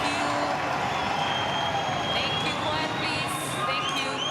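A roaring crowd at the Australian Open 2021 during the second-round tennis match between Nick Kyrgios and Ugo Humbert, a loud, unbroken wash of noise that holds steady for the whole stretch.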